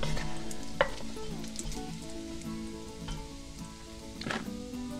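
Bacon sizzles in a pan with a steady, close crackle of fat, broken by a few sharper pops and scraping stirs.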